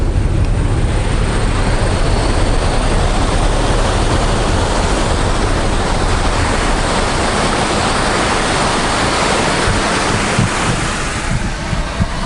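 Water flows strongly under the Little Annan Bridge on the road to Cooktown, a dense continuous rushing roar mixed with heavy wind buffeting, loud and close with no talk.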